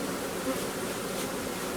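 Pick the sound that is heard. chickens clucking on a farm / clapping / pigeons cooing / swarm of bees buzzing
swarm of bees buzzing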